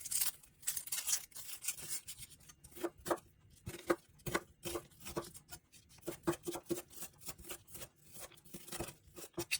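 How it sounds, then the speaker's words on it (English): A knife chops and dices half a peeled onion on a board, giving rapid irregular crisp taps and crunchy cuts in quick bursts, close up and without talk. "Peel, chop and dice half an onion."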